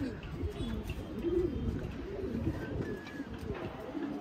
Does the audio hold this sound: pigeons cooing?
yes